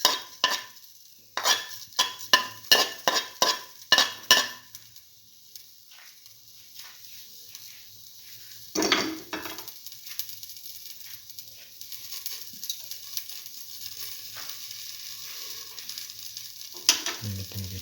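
Fenugreek and fennel seeds heating in a pan, opening with a quick run of sharp taps and clatters, then a faint steady sizzle with scattered small pops and a scrape near the end.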